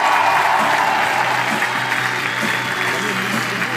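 A concert audience at the Chart's Dozen 2015 music awards applauds a singer, with steady sustained clapping filling the hall and faint voices and residual music beneath it.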